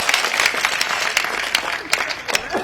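Audience applause fills the clip, a dense steady clatter of many hands clapping with scattered sharper claps and faint voices mixed in.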